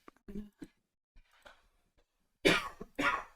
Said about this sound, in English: People are suffering with coughs in my house.